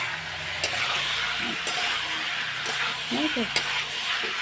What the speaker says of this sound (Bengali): কচুগুলো একটু ছোটো ছোটো করে দিয়েছি আজকে এখন আমি কষিয়ে নেবো ভালো করে